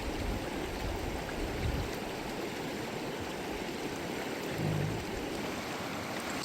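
Drummond Creek in the Whitehorse Wildlands of Alberta rushes by close at hand, a steady broadband wash of flowing water with small gurgling swells and no voices.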